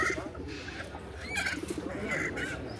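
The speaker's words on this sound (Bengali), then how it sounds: "এটা কি আপনার পালা কবুতর?" A pet pigeon at a traditional village market in Bangladesh gives soft, low coos, faint against a busy background of market chatter and noise.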